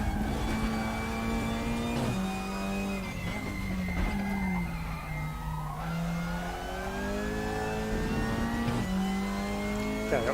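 An Opel Astra TC touring race car in the RaceRoom racing game drones loudly and steadily through the lap at the Vålerbanen track, its engine pitch dipping with gear shifts and climbing again with continuous revving.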